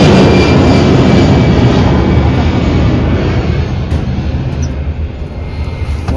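A jet airplane flies low near an airport in Andhra Pradesh, its engine roar loud and close at first and easing slightly as it passes, with no talking.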